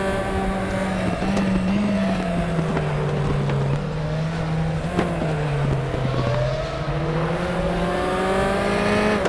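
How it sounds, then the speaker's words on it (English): Several racing cars in RaceRoom Racing Experience, F4 and Zonda multiclass field at the Macau street circuit, drone loudly and continuously, engine pitch rising and falling as faster cars close in from behind. "Faster cars approaching."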